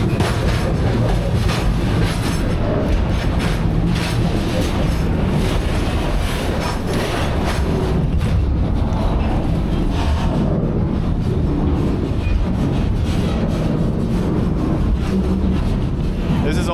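A freight train rolls through Kazakhstan as heard from aboard, a loud constant rumble of wheels and cars with rattling clatter and occasional squeals, a voice briefly audible beneath the din.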